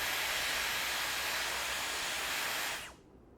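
A Dyson Airwrap hair styler blows a steady, loud broadband rush of air close up for nearly three seconds, then cuts off abruptly, leaving near silence.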